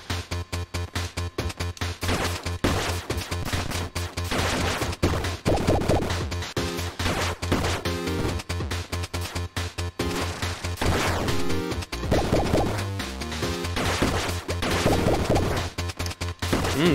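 Shooting and combat in the Cyber Shadow video game: dense, rapid impact and blast effects that hit repeatedly and loudly over a continuous, driving background music track, with no speech.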